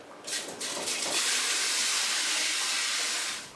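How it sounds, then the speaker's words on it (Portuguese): Melon seeds are rinsed in a sieve under running tap water, a steady close rushing hiss of flowing water that continues without a break for several seconds. "As sementes são extraídas do fruto e lavadas em água corrente em uma peneira."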